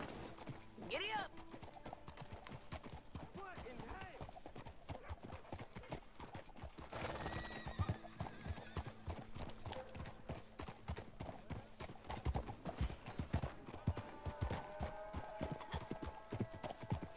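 Horse hooves gallop steadily through Red Dead Redemption 2, a continuous clip-clop rhythm with an occasional whinny, running under game music and overlapping speech.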